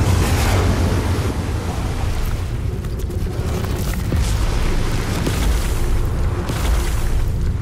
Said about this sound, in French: Imaginez des marées avec des vagues de plusieurs mètres de haut.